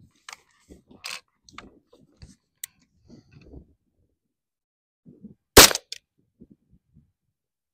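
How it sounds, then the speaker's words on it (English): A Ruger LC Charger pistol fires AAC 5.7x28 40 grain FMJ rounds, one sharp loud crack standing out near the middle amid faint clicks and handling noises, with long quiet gaps between. "This will be 5 rounds of the AAC 40 grain FMJ through the Ruger LC charger."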